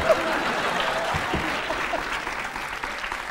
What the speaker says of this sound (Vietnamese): Xin mời quý vị hãy dành một tràng pháo tay để cùng đón chào cặp vợ chồng son đầu tiên